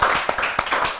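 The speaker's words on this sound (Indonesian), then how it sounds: "sekali lagi tolong dong tepuk tangan yang kencang ya untuk bintang tamu kita kali ini" Studio audience clapping for a guest star, a racing driver, on an Indonesian talk show; a dense, steady patter of many hands, close and moderately loud, with no talk over it.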